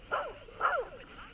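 Short, yelping animal barks from the Planet Zoo management game, two distinct calls about half a second apart at moderate volume, with a faint trailing echo and no talk over them.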